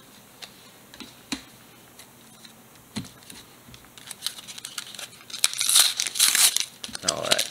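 Pokemon card packs are opened with a knife, starting as sparse soft clicks and ticks, then swelling into loud crinkling and tearing of foil wrappers toward the end.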